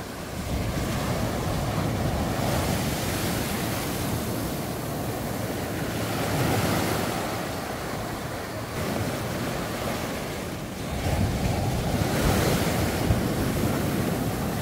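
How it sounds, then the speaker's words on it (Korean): Strong surf pounds the shore at Yonghwa beach in Korea, a continuous loud roar of breaking waves with swelling surges, buffeted by wind noise on the microphone and no talking. "파도가 너무 세긴 세다."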